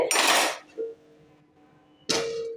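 A metal lid meets a pot of sambar in a home kitchen, giving two bright, ringing clangs about two seconds apart, close and loud, with a soft tap and quiet hum between them.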